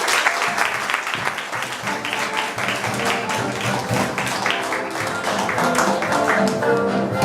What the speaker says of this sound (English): please, a warm round of applause for James J.